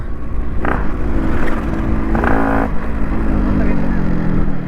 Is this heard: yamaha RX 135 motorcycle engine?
yes